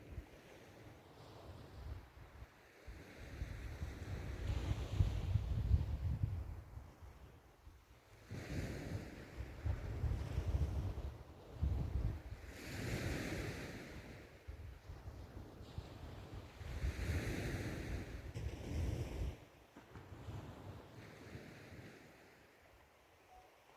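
Sea waves breaking on a beach at night, slow surges of surf rolling in and washing out in repeated swells, with wind buffeting the microphone and no talking.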